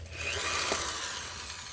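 Screws are removed from a Lenovo Chromebook circuit board with a brief, close whirring rasp from a driver that rises and then fades over under two seconds.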